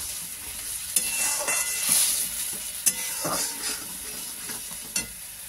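Cashew and poppy seed paste fries in a pan while being stirred, a steady close sizzle broken by soft scrapes and a few sharp clicks of the spoon against the pan.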